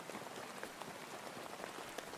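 Steady rain pours in the medieval world of the video game Kingdom Come Deliverance 2, a dense, even patter of drops hitting surfaces with scattered sharper taps, soft and continuous with no voices.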